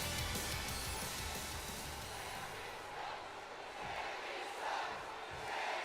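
Arena crowd noise from the WWE 2K wrestling video game, a dense, steady roar with rising swells and shouting, loud and continuous throughout a Smackdown match intro for Sami Zayn.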